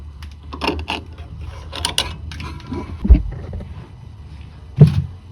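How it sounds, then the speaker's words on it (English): Tool cutting through an old, rusty hose clamp on the tie rod bellows of a 1988-1992 Toyota Corolla, with scraping, creaking metal and a couple of sharp clunks, close up with no talking. "So this clamp that's holding the bellows in is so old and rusty, I'm just cutting it off."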